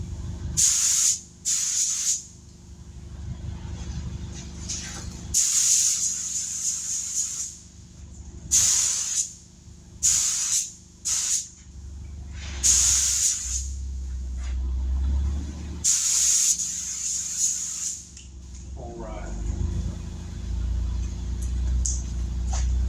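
Spray gun laying down clear coat mixed with flake onto Honda Shadow motorcycle parts, heard as repeated loud hissing bursts of varying length separated by short pauses, with a low background hum between passes.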